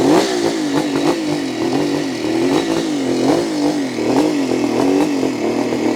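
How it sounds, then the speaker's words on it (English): A 1974 Kawasaki H2B 750cc motorcycle engine runs loud and steady nearby, its rough two-stroke drone wavering slightly in pitch with small throttle blips throughout. "It's quite easy to start, if you can hear me. It's quite a loud bike."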